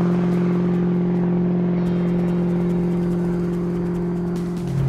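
A 1968 Ford Mustang in sand color, Bullitt style, with its engine running at a steady idle. The hum is loud and close and the pitch holds level throughout.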